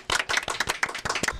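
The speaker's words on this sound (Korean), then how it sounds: "박수" A small group claps in a recording studio at the close of a Korean talk show, about a dozen quick, close hand claps in an uneven burst.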